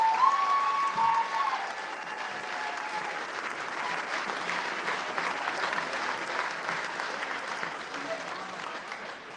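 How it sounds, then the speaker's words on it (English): An audience at a firefighter stair climb charity presentation in Melbourne gives a long round of applause, broad and even clapping filling a hall after a voice briefly fades out. "Everyone, round of applause to Natalie and Emma the Service Dog."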